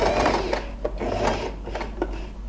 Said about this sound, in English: I will start sewing from here